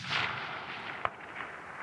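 A 6.5 Creedmoor rifle shot at a deer 375 yards away, heard as a faint, distant, broad boom, then a brief sharp thump of the impact, with wind noise throughout.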